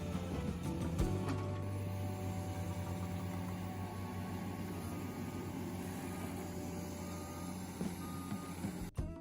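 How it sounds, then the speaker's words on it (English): A Ponsse Scorpion forestry harvester's 286-horsepower Mercedes-Benz diesel engine drones steadily at close range in a forest, with a repeating reverse beeper sounding over it and a brief hiss near the end. "The Ponce Scorpion roars to life, powered by a 286 horsepower Mercedes-Benz diesel deep in the forest."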